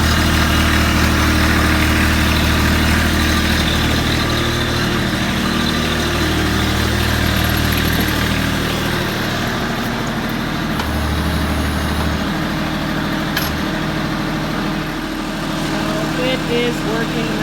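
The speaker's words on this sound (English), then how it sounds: "Go fire the tractor." Tractor engine, just repaired, runs loud and close with a steady idling rumble and harmonic drone throughout, its pitch shifting slightly partway through, with a voice faintly heard over it.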